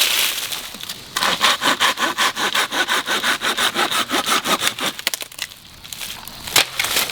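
Hand saw cutting through wood at a late-fall backpacking campsite in southern Ohio: a steady run of close, loud rhythmic back-and-forth strokes, then a pause and a few scattered scrapes near the end.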